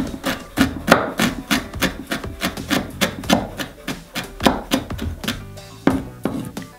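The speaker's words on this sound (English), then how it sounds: "For the beetroot, I'm cutting it into really thin strips." A knife slices beetroot into thin strips on a wooden board, in quick, steady, close chopping taps that run continuously without talk.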